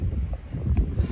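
Wind gusts at a beach, buffeting the microphone with a low, rough roar that swells and dips over a brief moment, with no voices.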